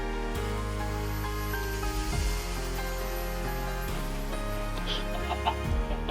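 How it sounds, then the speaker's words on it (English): Chickens in the video game Minecraft give a few short clucks that sit over steady background music, close by and fairly soft. "I forgot that the chickens have different variants too."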